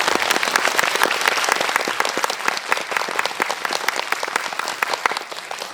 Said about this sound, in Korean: 다시 한번 박수로 들어주셔서 축하드립니다.